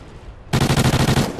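Rapid automatic gunfire in Call of Duty: Ghosts rattles out in a loud, close burst of about a dozen evenly spaced shots after a quiet moment, then cuts off.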